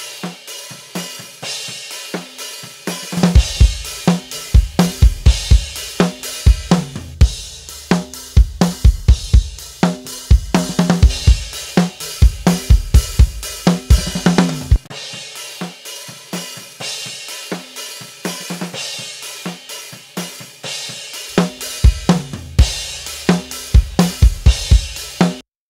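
Mixed acoustic drum kit with kick, snare and overhead cymbals played back, a steady groove of punchy low kicks and sharp snare hits under bright cymbal wash, with a short break partway through.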